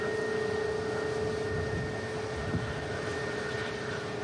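A Scandinavian airliner departing an airport for Copenhagen, its engines a steady far-off roar with a sustained whine, continuous and even throughout.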